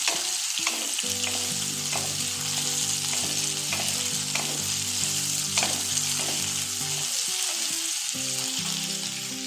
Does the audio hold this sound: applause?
no